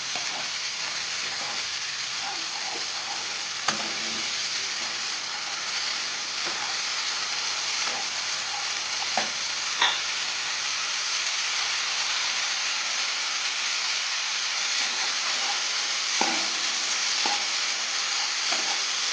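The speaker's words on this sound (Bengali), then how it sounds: "শ্যামাটা আমি একটু ভেজে নেব।" Barnyard millet frying in a pan for Ekadashi khichuri: a steady, close hissing sizzle runs throughout, with occasional light clicks and taps from stirring.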